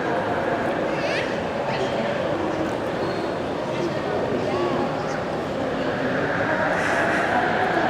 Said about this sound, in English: there's a train leaving there